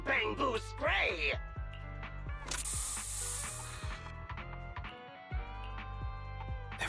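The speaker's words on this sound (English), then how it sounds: "Here, have a taste of this special Bang Boo spray." A hissing spray goes off in Zenless Zone Zero, a close burst of about a second and a half. Game sounds and character voices are heard around it.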